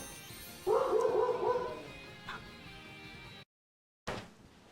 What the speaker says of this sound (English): Oh my God, it's that stray dog across the street.